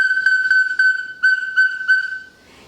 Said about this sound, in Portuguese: A cabeça da flauta, você tira, você tem um apitinho